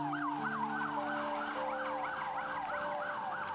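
A private polyclinic ambulance in Côte d'Ivoire wails through city streets, its rapidly rising and falling siren loud and continuous over low traffic rumble and steady horn-like tones.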